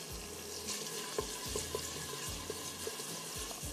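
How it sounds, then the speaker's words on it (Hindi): Tomatoes frying in a pot while being cooked down for a mutton handi, giving a soft, continuous sizzle broken by repeated scraping and stirring sounds, close and fairly quiet, with no talking. "अब इसको हमें थोड़ा भूनना है जब तक कि हमारे टमाटर थोड़े से सॉफ्ट हो जाएं।"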